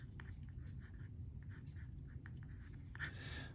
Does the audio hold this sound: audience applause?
no